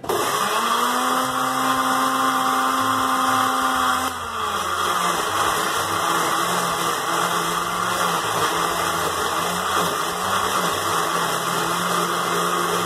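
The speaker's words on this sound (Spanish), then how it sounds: "lo voy a licuar, a licuar aquí el, vinagre" A kitchen blender runs continuously, whirring loud and close as it purées vinegar with chili peppers for ají campesino, its motor pitch dipping and shifting midway.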